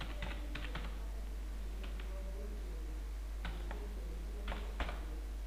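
Typing Java code on a computer keyboard, heard as several short bursts of quick key clicks separated by pauses, moderately close over a steady low hum.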